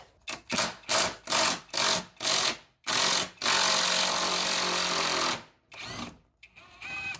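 A power tool with a 15mm socket drives bolts on a Jeep transfer case cross member. It fires in a string of short, rapid buzzing bursts, then one long run, then a few more short pulses, close and loud.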